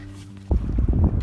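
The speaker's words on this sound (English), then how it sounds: "as you can hear, it's pretty windy out on Bottle" Wind on a lake buffets the microphone in heavy low gusts, rumbling loudly after a brief steady hum.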